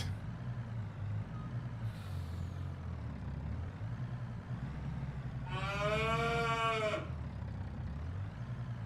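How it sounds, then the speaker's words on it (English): Cattle inside a livestock trailer, with one loud harmonic moo rising over a low idling truck engine rumble, plus a faint earlier call. "the cows are loud in the cabin"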